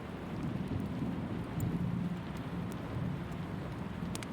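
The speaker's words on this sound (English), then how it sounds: "The sound of rain on the roof is steady like a soft," Steady rain patters on a cabin roof during a rainstorm, a dense, even wash of drops heard alone at moderate volume with no voices.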